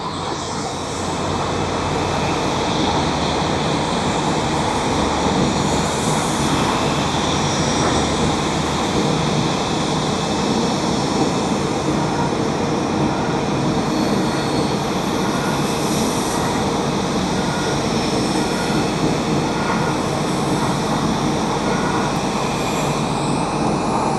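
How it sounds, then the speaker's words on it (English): An ANA Boeing 787-9 Dreamliner lands at Tokyo Haneda Airport, its engines giving a steady, loud broadband roar that holds throughout with no talk over it. "Finally, we got some really great view of an aircraft coming in."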